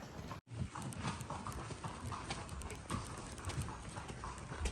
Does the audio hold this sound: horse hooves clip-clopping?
yes